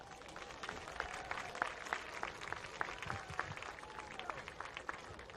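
Outdoor crowd applause for students at a Ravenswood High School homecoming football event, steady clapping with sharp individual claps rising above it, moderately loud and continuous throughout.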